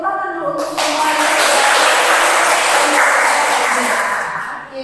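Seminar participants at Unika De La Salle Manado clap together for several seconds during a teaching session. The burst of clapping is loud and close, with a voice speaking briefly before it starts and again as it fades.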